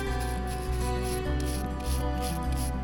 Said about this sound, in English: Getting out the coarse brush for this.